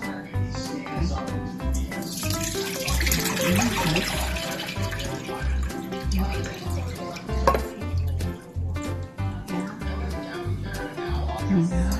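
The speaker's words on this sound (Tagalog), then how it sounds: "Fruit cocktail. Now, kailangan natin siya i-drain." Canned fruit cocktail drains in a kitchen, liquid splashing and trickling steadily with clinks and knocks throughout, close and fairly loud with a voice talking over it.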